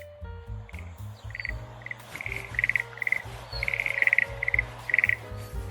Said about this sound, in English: frogs croaking in the sun